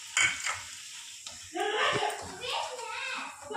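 Ground spices hitting hot oil with tempered cumin seeds and two chillies in a pan while cooking a spicy mango curry, giving a soft sizzle with scraping stirs and light utensil clinks in a home kitchen.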